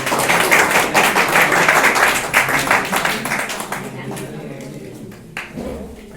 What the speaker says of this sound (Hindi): ये मैडम की तरफ से जोरदार तालियां।